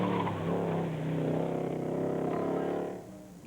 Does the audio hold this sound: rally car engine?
yes